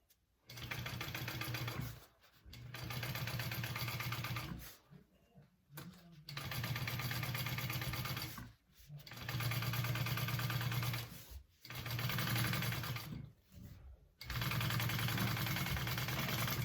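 A sewing machine stitches a bucket bag in about six whirring bursts of several seconds each, separated by short pauses, close and clear.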